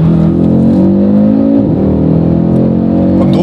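A powerful Audi RS3 8Y engine roars loudly up close, pitch sweeping through a gear change as it accelerates hard, a continuous dense growl throughout.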